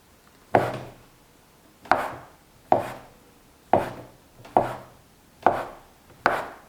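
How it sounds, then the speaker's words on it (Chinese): Knife slicing a rolled dough log into equal portions on a board, seven evenly spaced crisp chops with soft thuds, close and clear against a quiet background. "切成大小均等的面剂。"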